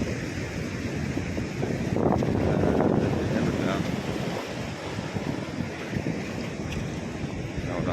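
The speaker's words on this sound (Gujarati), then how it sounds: "તો આવી રીતે દરિયો છે તો પાણી અત્યારે ભરાવમાં છે" Sea waves wash in at a beach in Porbandar, with a broad rushing surf mixed with gusty wind buffeting the microphone and a swell in loudness partway through.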